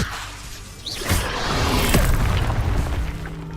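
Leviosa spell cast in Hogwarts Legacy: a rising magical whoosh that swells into a broad, rumbling burst, sustained loud and full for a few seconds alone, with no talk over it.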